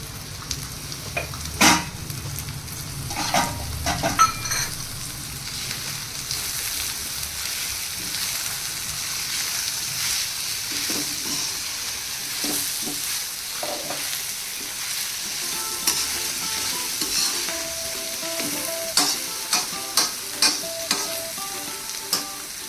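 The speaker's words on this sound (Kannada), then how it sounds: "ಕೊತ್ತಂಬರಿ ಸೊಪ್ಪು ಹಾಕೊಂಡು ನೀಟಾಗಿ ಮಿಕ್ಸ್ ಮಾಡ್ಕೊಳ್ಳಿ" Avalakki uppitu with coriander leaves being stirred in a pan, a continuous soft sizzle with repeated scraping strokes of the spoon and occasional sharper knocks against the pan, close and unaccompanied by speech.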